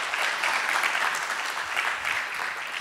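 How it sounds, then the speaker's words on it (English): Steady, full audience applause for a panelist at an entrepreneurial space panel at IdeaFestival 2015, a dense even wash of clapping with no voices over it. "So let's give Julia a quick round of applause."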